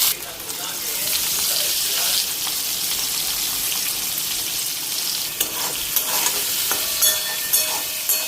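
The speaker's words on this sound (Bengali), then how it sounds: "কাঁকরোলটা এখন একটু হালকা ভেজে নিই।" Pointed gourd (kakrol) lightly frying in oil in a home kitchen pan with nigella seeds, a loud, close, continuous sizzle broken by scraping stirs and clinks of the spoon against the pan.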